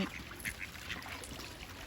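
Ducks quack faintly in an outdoor natural setting while scrambling to eat bread, a few short distant calls scattered over low ambient noise.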